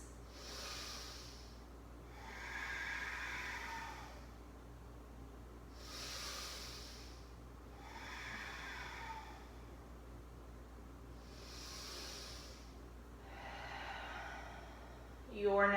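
Slow, deep yoga breathing: a quiet, close series of airy inhales and exhales alternating in an even rhythm, about three full breaths, with a faint hiss on each and a low background hum.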